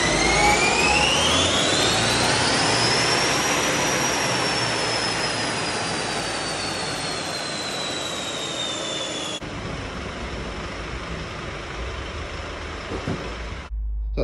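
Mercedes Vito 163 hp van being remapped on a dyno, its engine held in a loud sustained roar that climbs steadily in pitch for several seconds, then runs on at a steady high drone before cutting off near the end.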